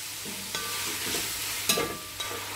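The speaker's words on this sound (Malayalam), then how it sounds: "ഇതിപ്പോൾ നമ്മൾ നെയ്യിൽ വഴറ്റിയെടുക്കുമ്പോൾ നല്ലൊരു ഫ്ലേവറാണ് ചിക്കന് കിട്ടുക." Boneless chicken sautéing in ghee for chicken pulao gives a steady, close sizzle, broken by a few sharp clatters of stirring.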